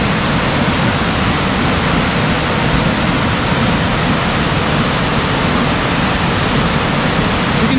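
A loud, steady roar of rushing water from Burgess Falls in Sparta, Tennessee, a constant broadband wash with no pauses or voices.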